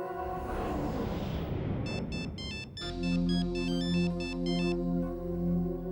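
A phone ringtone plays loudly in a Hindi TV drama scene, a bright electronic melody of repeated chiming tones over a low sustained backing, with no talk over it.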